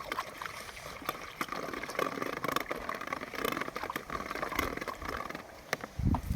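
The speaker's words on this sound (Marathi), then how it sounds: "हे प्लॅस्टिकचा पाईप यानं आपण आता मिक्स करावं लागलो" Bordeaux mixture of lime and copper sulphate being stirred with a plastic pipe, soft continuous sloshing and trickling liquid with faint splashes and occasional light knocks, fairly quiet.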